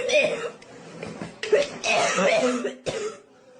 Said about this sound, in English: is that cough really mild?